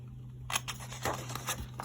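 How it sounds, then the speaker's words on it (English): Scissors snip a small rectangle straight out of paper for a tiny tissue box: a few quiet, crisp cuts in an otherwise still room. "you're just going to cut that out straight off the paper."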